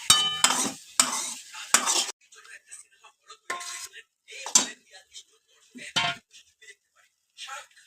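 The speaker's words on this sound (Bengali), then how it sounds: "আর হোয়াইট সসটা দিয়ে একটু নাড়াতে হচ্ছে কারণ লেগে না যায়" A spoon scrapes and clinks in a pan while white sauce for pasta is stirred, with brief bursts of clattering and quieter rhythmic stirring, close and clear.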